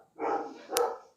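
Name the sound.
dogs barking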